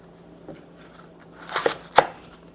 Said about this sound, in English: gonna cut my leek in half